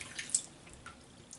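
Water trickles and drips into a vegan soap base for wet shaving, a brief quiet splash and patter close by with no talk.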